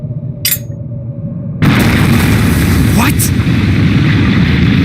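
Bomb explosion in the role-playing game Trails of Cold Steel, a sudden loud boom that swells into a sustained roaring rumble after a brief quiet start, with a voice speaking just before.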